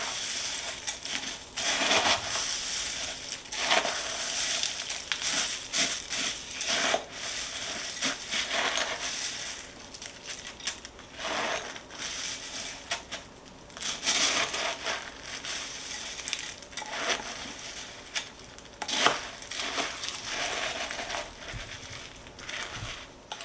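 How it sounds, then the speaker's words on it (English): Crushed cornflakes being folded into a macaroon mixture give a steady crunching and crackling, with repeated irregular crushing strokes close by and no talk. "And now all you want to do is fold it nicely, carefully."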